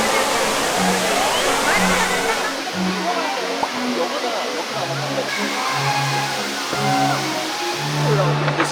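A waterfall at Gardens by the Bay in Singapore roars in a constant broadband rush, with a low droning hum and faint voices underneath.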